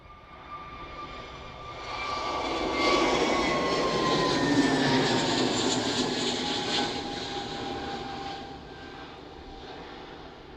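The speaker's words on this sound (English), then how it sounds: "Airbus A320. Very short rotation on that one." An Airbus A320 jet airliner at Manchester Airport roars steadily past, swelling to a broad peak midway and then slowly fading, heard from a distance with no talk.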